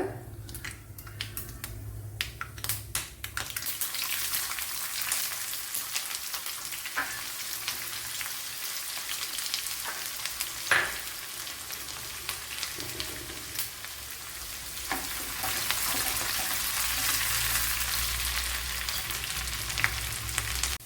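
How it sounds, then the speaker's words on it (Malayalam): Chopped shallots fry in hot oil that crackles and sizzles steadily with sharp popping bursts early on, a continuous frying hiss close up with no voices. "ഇനി ഒരു മൂന്നാല് കൊച്ചുള്ളി അരിഞ്ഞത് ഇട്ട് കൊടുക്കുക"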